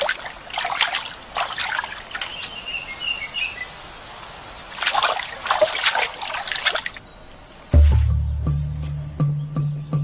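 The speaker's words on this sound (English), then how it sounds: "As we watch Jill's chimps enjoying their afternoon dip in such human-like ways" Chimpanzees splashing in a water pool, with light trickling and splashing in bursts against an outdoor background of insects and birds, ending in a louder, lower rumbling stretch.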